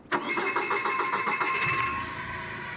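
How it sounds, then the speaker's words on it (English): A Linde 1202 forklift truck's engine cranks and catches with a rapid rhythmic chugging, then settles into a steady idle, heard close and alone. "When we start the machine, the key is built in here, and the start-stop switch is also in the armrest."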